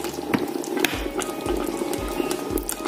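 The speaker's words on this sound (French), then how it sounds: "Là, maintenant, j'ajoute l'huile rouge. Quand ça a déjà un peu bouilli là." Red palm oil poured into a pot of smoked goat kondre stew as it boils, with steady bubbling and liquid churning up close, broken by several low thuds.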